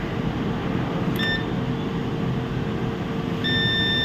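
Two short electronic beeps from a multimeter continuity test on a laptop circuit board, a brief one near the start and a longer steady tone at the end, over a constant low hum of background noise.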